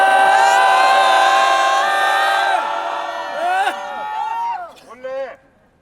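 A crowd at a nighttime candlelight political rally outside a party headquarters lets out a long, loud shouted cheer. The sustained roar of many voices rises in pitch, then breaks into scattered whoops before fading out.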